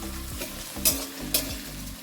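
Onion, tomato and spice masala frying and being stirred in a pan for a fish curry (aar macher jhal), a steady close sizzle broken by two sharp scraping strokes of the spoon.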